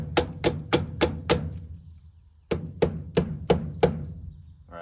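An Olight OSight gun sight beaten against a piece of wood in two runs of sharp, close knocks, five quick hits, a pause, then five more with a similar rhythm.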